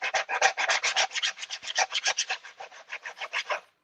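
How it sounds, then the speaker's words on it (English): Sanding a 1/6 scale N17 model part by hand with sandpaper, about two dozen quick, even rasping strokes close up, steady in rhythm and gently fading, with no talking. "let that sandpaper do the work for you"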